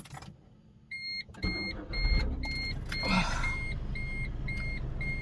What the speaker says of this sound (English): I'm gonna have to turn the AC on. It's gonna get loud for a moment.